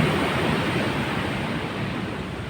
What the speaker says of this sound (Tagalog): Napakalaki ng mga alon mga kabatang summer.